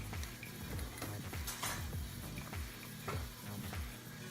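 Food being stirred in a pot while preparing a plant-based meal, with repeated scraping and clinking strokes of a utensil against the pot in a loose, steady rhythm, close and fairly quiet.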